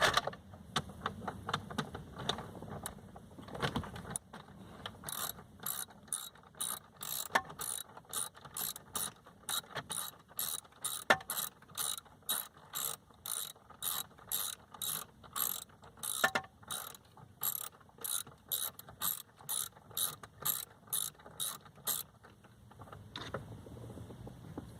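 A hand ratchet loosens bolts during car dashboard removal, giving long runs of rapid, evenly spaced clicks that repeat in rhythmic bursts at close range, with no talking.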